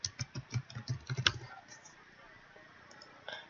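Fingers typing on a computer keyboard while writing HTML, a quick close burst of soft key clicks for about a second and a half, then near silence with a faint sound at the end.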